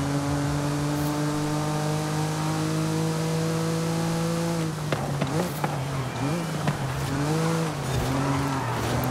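A Porsche 997 911 Sport Classic driven in the racing game Forza Horizon 5, its engine holding a steady loud drone before shifting into revving, wavering pitch with brief tire squeal.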